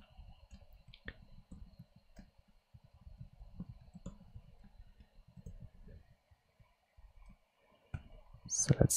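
Light keyboard typing while writing Python code, soft scattered clicks at low level with quiet pauses, a few brief louder taps near the end.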